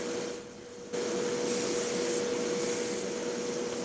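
An airbrush or spray can painting a model kit gives a steady, close hiss of spraying that comes in short bursts and then settles into a longer continuous spray, with no talking.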